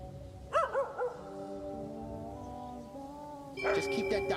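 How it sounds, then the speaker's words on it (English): A dog barking in the video game Hades II, a quick burst of a few close yelps early on, then game music and ambience carrying on beneath. "Just keep that dog away from me."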